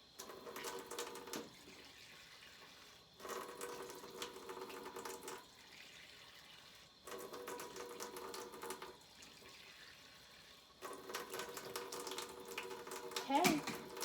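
Warm water runs from a kitchen tap in bursts, a steady close splashing rush switched on and off four times with quiet gaps between.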